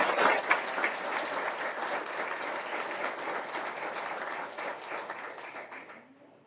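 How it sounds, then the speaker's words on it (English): Audience applause at a summer seminar opening session, a steady wash of many hands clapping that slowly fades out near the end. "please give us a big"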